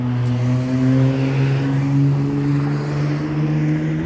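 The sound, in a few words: loud car driving past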